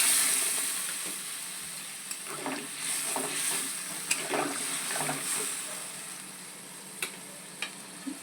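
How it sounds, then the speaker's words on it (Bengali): Home-style Bengali egg curry sizzles and frizzles steadily in a pan as water is added, with scattered stirring clinks and small spatters over a continuous frying hiss, close and fairly loud, no talk. "এবার আমি জল দিয়ে দেবো দেখো আমি জল দিয়ে দিলাম"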